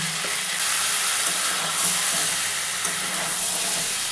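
A paste of ground cumin and coriander fries in a pan, giving a steady, close sizzling hiss with faint bubbling that stays even throughout.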